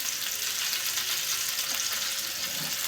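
Whole green chilies fry in oil in a pan for brinjal bharit, giving a brief, even, close sizzling hiss with no talk.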